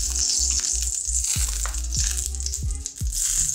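Small pieces of garlic sizzling in hot olive oil in a pan, a steady close crackle and hiss broken by repeated scraping stirs.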